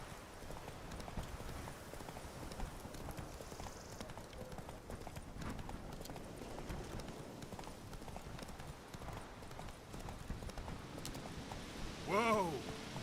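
Steady clip-clop of horse hooves at a gallop in a video game, continuous and moderately loud across the whole stretch, with a brief whinny-like burst near the end.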